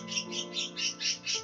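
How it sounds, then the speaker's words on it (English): Birds in a video game chirp in a steady run of about six bright, evenly spaced bursts, close and clear above a sustained tonal backing. "Birds! What do you think you're doing?"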